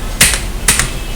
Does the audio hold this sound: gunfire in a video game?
no